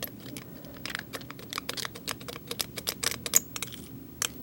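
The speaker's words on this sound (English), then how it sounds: "to cut these little pieces into a fine particulate." A tissue blade chops small pieces of dried metal clay into fine particles, giving quick, irregular sharp clicks and taps against a hard surface, quiet and close, continuing throughout with no speech.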